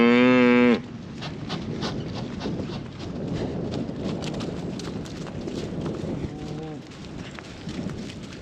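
A cow being chased around a farm catch corral lets out a loud moo, then hooves thud and trample steadily before a second, shorter moo near the end.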